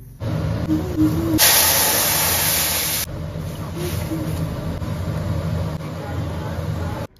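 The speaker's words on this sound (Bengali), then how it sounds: "তো চলো ডালটা এবার ফোড়ন দিয়ে দিই।" Tempering spices hit hot oil over dal in a home kitchen, producing a bright, steady hiss that flares loudly for a couple of seconds and then settles into a softer continuous sizzle.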